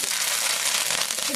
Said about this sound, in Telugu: చిటపట ఆడుతూ ఉంది. వాసన మాత్రం గుమాయించేస్తుంది.